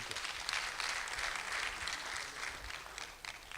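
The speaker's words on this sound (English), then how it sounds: "Please, can we give him a round of applause?" Audience applause at an annual general meeting and conference, a soft, even patter of many hands clapping from a distance, continuous for a few seconds and fairly faint.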